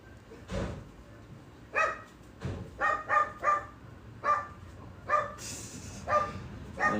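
A dog barks indoors in a series of sharp, separate barks, about a dozen spaced irregularly, fairly close and moderately loud, with a low thump early on.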